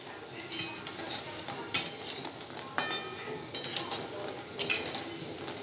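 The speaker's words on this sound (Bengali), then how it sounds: "এইভাবে বড়াগুলো ভেজে নিলাম" Leaf and lentil fritters (bora) fry in oil with a soft sizzle beneath frequent light clinks and scrapes of a metal utensil turning them in the pan, close by and without speech.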